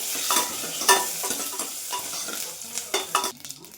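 Mustard seeds, cumin, a cut green chilli and curry leaves frying in hot oil for drumstick huli sambar, giving a loud close sizzle with crackling pops and repeated scraping stirs of a spoon in the pan, with no voices.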